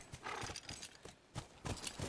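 Hooves of a galloping horse in The Last of Us drum in quick repeated bursts, fairly close, with a brief snort or whinny mixed in and no talking.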